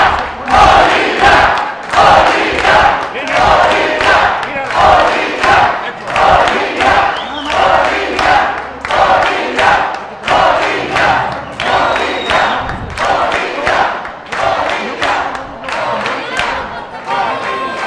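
A crowd at a men's doubles racquetball semifinal between Mexico and Bolivia chants and cheers in loud rhythmic waves, voices rising and falling in a steady repeating cadence for the whole stretch.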